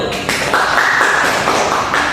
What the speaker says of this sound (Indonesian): Tepuk tangan untuk satu.